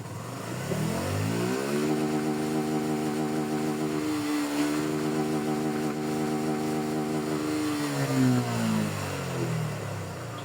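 A motorcycle engine is pushed toward top speed, revving up through rising gear whines with a shift midway and another climb near the end, loud and close with no talking.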